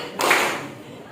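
A single sharp burst of hand clapping from pupils in a classroom clapping game, one short loud clap that quickly fades into room noise.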